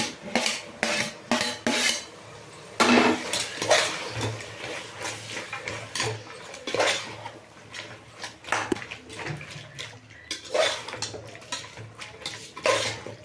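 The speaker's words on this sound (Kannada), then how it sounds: "ಇದೊಂದೆರಡು ನಿಮಿಷ ಫ್ರೈ ಆಗಲಿ" A spoon clatters and scrapes against a pan as tomatoes are stirred and fried for pulao, with peanuts already in the pan. The sharp, irregular metallic knocks sound close, with a faint sizzle between them.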